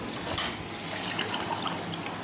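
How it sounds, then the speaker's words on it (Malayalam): Water runs into a cup holding lime, starting with a brief splash and settling into a soft, steady trickle at close range, quiet and without talk. "അടുത്ത കപ്പിലെടുത്ത നാരങ്ങ അതിലേക്ക് ഈ വെള്ളം"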